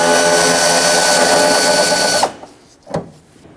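A power drill whirs loudly and steadily while backing out an 8mm screw from the fender flare of a 2007-2014 Chevrolet Silverado 2500 HD, then stops abruptly, followed by a couple of faint clicks and handling knocks.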